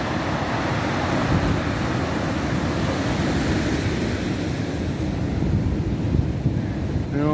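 Stormy Black Sea surf pounding the shore at Arkhipo-Osipovka, a continuous loud roar of breaking waves with heavy wind buffeting the microphone throughout.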